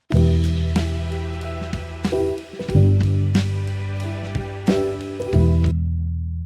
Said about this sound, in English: Here I've got this on a bass sound playing simple long notes